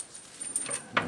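Small metal washers clink and jangle briefly while a turn signal is fitted to a KTM 390 Duke motorcycle, a few light close-up metallic taps ending in one sharper clink.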